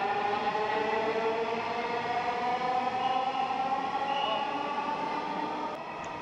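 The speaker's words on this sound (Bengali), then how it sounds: "আমাদের ট্রেনে চলে আসছে" A Dhaka metro rail train runs at a station with a steady whining drone and rumble that stays loud and even, easing slightly near the end, with no one speaking.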